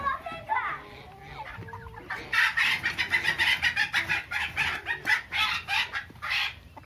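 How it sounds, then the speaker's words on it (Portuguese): Chickens on a small rural farm cluck loudly in a rapid, agitated run of squawks while being chased, with voices heard faintly under the flurry. "Não consegue pegar uma galinha desse tamanho,"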